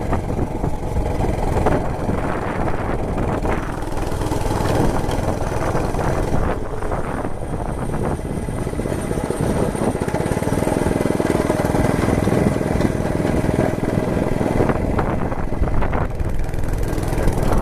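A Monter Moto MMB80 gas minibike engine drones steadily while being ridden outdoors in freezing weather, a loud continuous small-engine buzz with wind rumble and slight shifts in pitch throughout.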